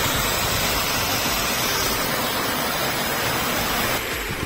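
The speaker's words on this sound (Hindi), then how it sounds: "आवाज सुन सकते हो पानी की, कितनी तेज आवाज आ रही है" Steady, loud broadband rush of water from the Gadmora waterfall in Rajasthan, pouring continuously between hills, with no voices and a slight change in tone near the end.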